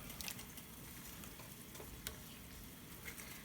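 Light brown sugar being stirred into a sizzling pan for a red wine cherry sauce, a soft continuous frying hiss with faint utensil taps, quiet and close.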